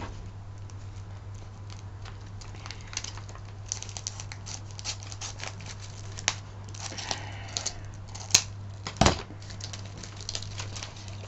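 Scissors cut open a mail pouch with sparse, quiet snips and light crinkling, ending in a louder crunch near the close, over a low background hum.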